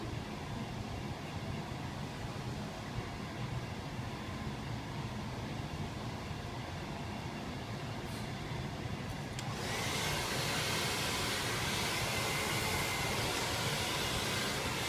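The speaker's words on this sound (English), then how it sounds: "Really getting that root dry, keeping that tension in the beginning, making sure we get a good, smooth, crisp-free blowout." A handheld hair dryer blows hair during a blowout, making a steady, fairly faint whooshing drone that grows brighter and more hissy near the ten-second mark, with no talk.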